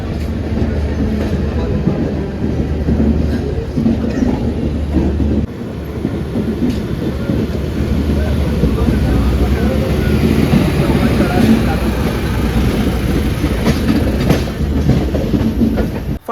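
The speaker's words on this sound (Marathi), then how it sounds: "मांडवी ट्रेनने आमचा प्रवास होतोय कणकवली ते ठाणे" The 10104 Mandovi Express runs from Kankavli to Thane, heard from inside a sleeper-class coach. A loud, steady rumble with rhythmic wheel clatter continues throughout.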